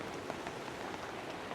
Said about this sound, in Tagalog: Kasi yung patak ng ulan, sarap matulog pag naririnig mo yun. Pumapatak sa tent mo.